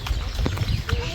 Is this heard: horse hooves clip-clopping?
yes